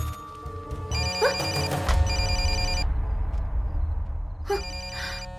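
In a police-station crime scene from a Telugu film, a telephone bell rings in two clear, loud bursts separated by a pause, close and unaccompanied by speech.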